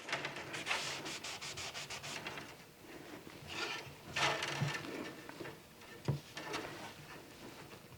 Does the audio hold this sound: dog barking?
no